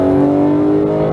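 A Porsche 911 GT3 991.2 engine drones loudly and steadily on a race track in Las Vegas, a brief close, strongly tonal roar from inside the car under acceleration.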